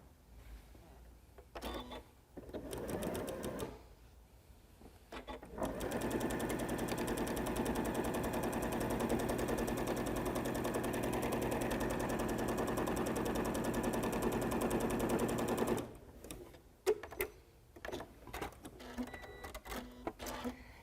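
A sewing machine stitches the long side seam of a placemat, right sides together with a quarter-inch allowance, running steadily for about ten seconds between shorter starts and handling noises.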